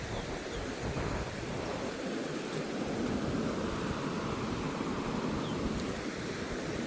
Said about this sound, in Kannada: ಒಂದು ಹೊಳೆ ಹರಿತಾ ಇದೆ